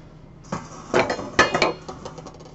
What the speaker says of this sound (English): sieve over a bowl